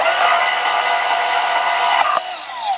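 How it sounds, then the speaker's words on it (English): A cutoff tool slices through metal during a beginner blacksmith job making cork screws, giving a loud, continuous high-pitched whine that drops away near the end as the cut finishes. "if you're in 2024 and you have access to, I don't know, newer age cutoff tools, you can cut it off like right here."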